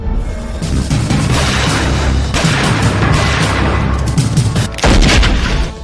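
Gunshots ring out in an early-morning shooting in Bihar, India, a loud dense volley of sharp booms with rolling echoes and a final heavier burst near the end, no talking.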